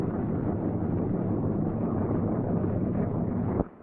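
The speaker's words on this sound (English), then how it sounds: "I'm going to start the left engine" The left engine of a troop carrier aircraft starts up, a loud, steady low rumble with a rough, wind-like roar that holds evenly, then cuts off abruptly near the end.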